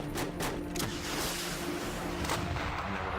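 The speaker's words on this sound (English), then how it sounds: "I've never heard so much gunfire in my entire life." Bursts of gunfire crack and thud repeatedly, several shots in quick succession, somewhat distant and muffled against a dull background rumble.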